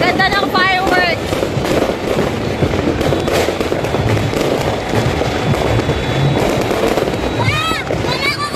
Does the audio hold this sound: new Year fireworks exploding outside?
yes